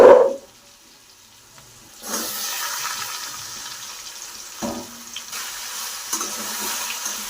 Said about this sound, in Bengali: আলুর সাথে সবেনটা একটু ভেজে নেবো